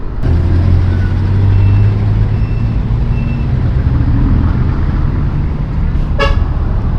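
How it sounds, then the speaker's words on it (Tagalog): Big trucks on a congested road in traffic, a steady loud rumble of heavy engines close by, with a short horn toot near the end. "Daming malaking truck dito guys."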